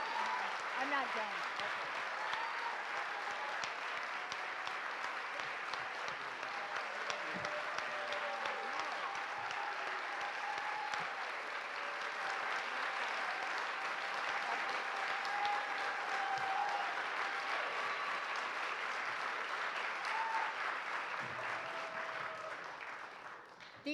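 A neighborhood association crowd gives candidates for California's 7th Congressional District a long, sustained round of applause, dense and even throughout before tapering off near the end, with some voices mixed in.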